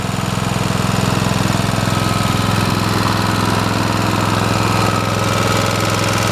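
A PE75 gasoline engine, freshly fueled and pull-started, runs steadily with a loud, continuous low throbbing drone and rapid knocking pulse, close up and alone for the whole stretch.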